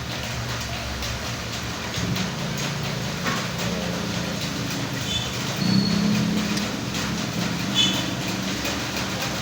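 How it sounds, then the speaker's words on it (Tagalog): Steady rain hisses over a wide, continuous noise bed with a low rumble underneath and a few brief louder swells. No voices come through clearly. "Medyo maulan ngayon mga pilingero ha."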